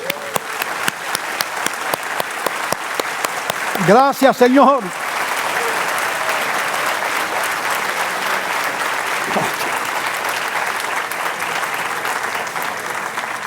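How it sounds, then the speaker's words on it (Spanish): A church congregation bursts into sustained applause during a Spanish-language sermon, a steady roar of clapping filling the room, with a voice briefly speaking over it near the start. "Vamos a darle un aplauso al Rey de Gloria."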